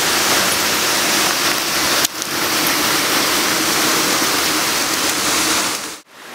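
Rushing river water in the Amazon roars as a loud, steady broadband wash close by, with a brief dip just after two seconds and a sharp drop near the end.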